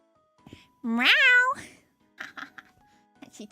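A cat meows once, clearly and loudly, as a rising, tonal call on a streamed exercise session, followed by faint background clicks and light sounds.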